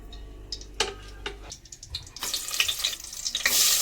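Chopped onion frying in oil for a Konkani-style tempering, with a few sharp stirring knocks against the pan early on, then a crackling sizzle that swells louder toward the end.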